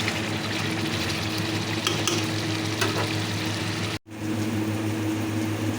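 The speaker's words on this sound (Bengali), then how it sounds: "মাংসটা নামিয়ে নিয়েছি আর মাছের মশলাটা কষিয়ে নিচ্ছি" Fish curry spice paste frying in a pan and being stirred, a steady close sizzle with scraping strokes, briefly cut off near the end before resuming.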